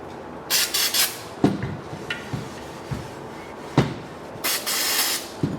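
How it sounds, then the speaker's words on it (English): Several short bursts of aerosol carburetor cleaner spray hiss, some long and some brief, separated by clinks and handling knocks, with no talk, while cleaning a GM 12-bolt rear differential housing and its mating surface. "grab some carburetor spray and clean the inside and the mating surface particularly well"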